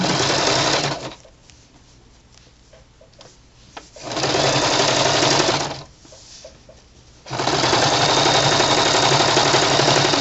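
A sewing machine runs in three loud, steady bursts while back stitching a pillowcase seam, with short quiet pauses between runs and faint clicks of the machine in the gaps.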